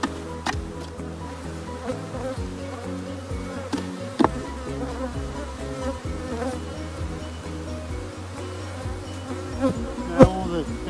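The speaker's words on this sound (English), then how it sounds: "Now all the bees have been shaken in, we've got a few to tidy up, but most of them are in there." Dense, steady buzzing of many honey bees during a shook swarm into a hive, a continuous close drone with occasional louder passes as individual bees fly near, no voices.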